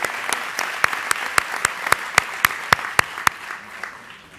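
Audience applause in a hall at the closing session of a social work congress in Zaragoza, a dense patter of clapping with loud, regular claps from one or two people nearby that slows and fades toward the end.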